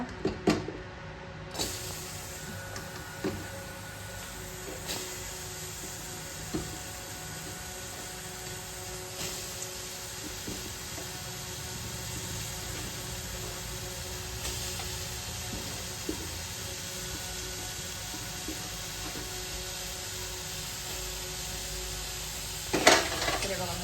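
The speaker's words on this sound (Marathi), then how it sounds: "तर आता हा आपण कांदा परतायला टाकू" Chopped onion with chili pieces sizzles steadily in hot oil in a pan while cooking aloo paratha filling, a soft continuous frying hiss with occasional faint clinks of a utensil.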